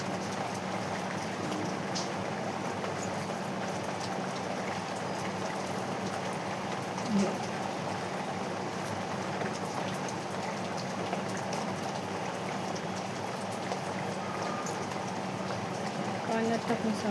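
Prawns are cleaned in a pan of water, giving continuous soft splashing, dripping and sloshing at close range, fairly quiet, with a voice faintly present in the background.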